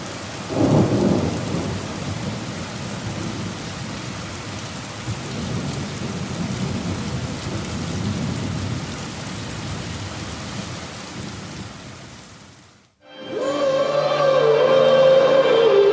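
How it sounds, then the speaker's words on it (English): Heavy rain pours steadily with deep thunder rumbling underneath; near the end the storm cuts off abruptly and a different, music-like sound begins. "This is some heavy rain,"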